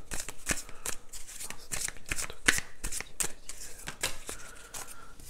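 Tarot cards are shuffled nearby in a quick, continuous run of crisp papery snaps and riffles, fairly loud with a steady irregular rhythm.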